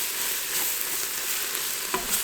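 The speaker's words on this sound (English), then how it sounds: "And we also just need to cook off a little bit of that raw flour." Onions coated in flour frying in a pot for French onion soup, giving a steady close sizzle with soft scraping from stirring.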